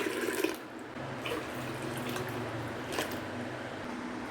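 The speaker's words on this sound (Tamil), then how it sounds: "இதில் ஒரு 1/2 குக்கர் தண்ணி ஊற்றிக்கலாம்" Steady rush of water pouring into a pressure cooker, a continuous splashing stream with a few louder gurgles, close by and without talk.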